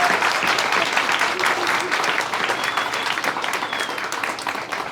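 Dense, sustained audience applause fills the room for Dr. Christina Royal at a Holyoke Community College celebration, a steady wash of many hands clapping that slowly eases off.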